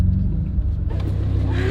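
A tuned BMW M2 Competition rumbles loudly up close with a deep, throaty exhaust note, rising in pitch as it accelerates hard.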